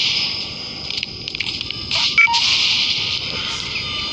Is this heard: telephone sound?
yes